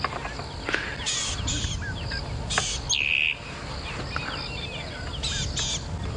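A rattling cisticola calls outdoors on an early-morning safari drive in South Africa, sending brief chirps and trills over a low rumble. Other birds call around it, among them a clucking fowl.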